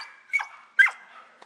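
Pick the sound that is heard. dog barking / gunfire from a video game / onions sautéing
dog barking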